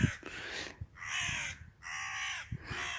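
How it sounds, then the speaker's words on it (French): Crows caw in three long, harsh calls, loud and close, separated by short gaps, with a few low thumps and rustles between calls and no voices. "les corbeaux, corneilles ou je ne sais trop."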